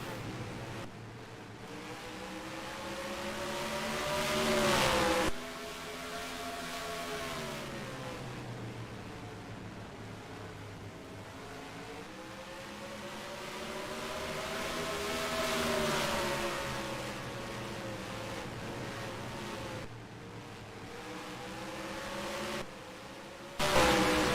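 Race cars from an Alpha Tauri Cup sim race at Nashville Fairgrounds drone and whine continuously, engine pitch rising and falling through each lap with brief lifts and a loud surge at the end.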